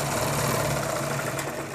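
A sewing machine stitching underwear fabric runs in a steady, close, continuous mechanical whir with a low humming drone and no pauses.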